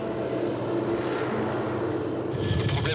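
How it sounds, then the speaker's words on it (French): A helicopter, callsign Romeo Delta, lining up for takeoff toward Île d'Yeu, its engine and rotor producing a steady loud whine and rumble that intensifies toward the end. "Sur l'hélicoptère Roméo Delta, je vais m'aligner, décoller, direction de l'Île-Dieu"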